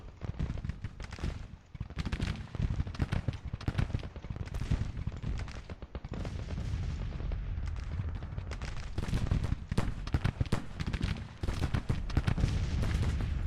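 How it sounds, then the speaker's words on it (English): Artillery booms and heavy gunfire crowd a Civil War battle in Grand Tactician, a dense, continuous barrage of loud overlapping blasts and crackling volleys with no gaps. "you got artillery crowding us here"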